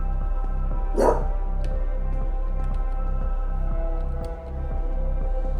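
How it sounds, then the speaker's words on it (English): A puppy barks in the background, with a few faint distant yips spread through the clip over a steady low hum and no talking. "Again, I apologize for the puppy in the background."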